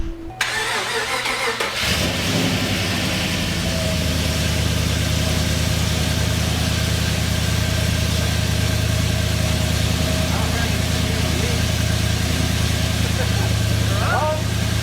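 A truck engine cranks and fires up, then settles into a loud, continuous rumbling idle that holds steady close by, with a voice briefly heard under it.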